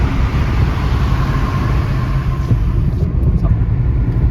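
A car drives through a tunnel, a steady, loud low rumble of engine and road noise filling the whole stretch without a break.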